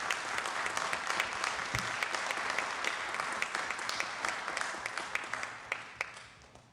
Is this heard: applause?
yes